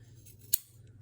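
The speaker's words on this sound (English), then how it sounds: "I'm using my fabric scissors" A single sharp snip of fabric scissors cutting through a thick T-shirt strap, brief and crisp over a low steady hum.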